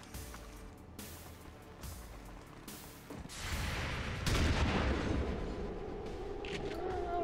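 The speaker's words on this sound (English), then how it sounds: "Let's hit with a shotgun" A shotgun blast goes off in the XCOM 2 strategy game, a loud boom with a sustained rumbling tail, preceded by softer game sounds.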